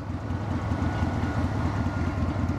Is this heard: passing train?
yes